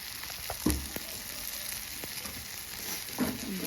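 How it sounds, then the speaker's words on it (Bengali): An egg fries in a little oil in a pan, giving a steady, soft crackling hiss with a few sharper pops and clinks of utensils throughout. "ডিমটা ফ্রাই করে নেব।"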